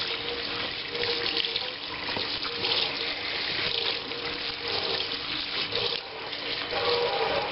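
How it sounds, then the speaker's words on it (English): Hot water runs steadily from a kitchen tap onto a dish rag, a continuous close splashing hiss with no talking. "I'm going to take a dish rag, and I'll get it nice and hot with the hot water"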